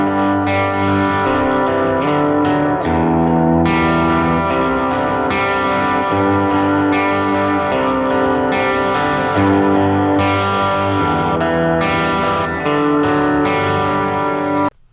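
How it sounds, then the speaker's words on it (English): A worship song's arpeggiated part played through effects, with sustained shimmering tones rolling in steady repeated patterns over a full band bed, loud and continuous until an abrupt stop. "So you'll hear this arpeggio part come in"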